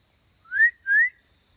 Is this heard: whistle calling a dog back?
yes